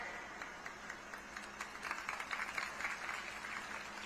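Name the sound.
audience applause at a rally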